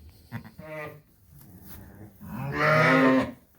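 A ewe in a lambing barn calls for her lamb with two loud, close bleats, a shorter one first and then a longer drawn-out cry, set against quiet barn background.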